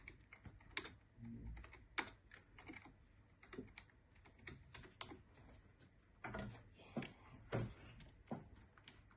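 Typing on a Razer Ornata V3 X gaming keyboard: quiet, irregular bursts of soft key clacks close by, with uneven rhythm and brief pauses throughout.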